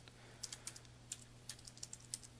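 Quick, light keystrokes tap on a computer keyboard in a quiet room, an irregular patter of soft clicks close to the microphone.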